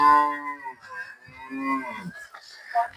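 Cows and a buffalo at a farm, recently calved animals, giving a couple of drawn-out moos at close range, with someone talking briefly around them.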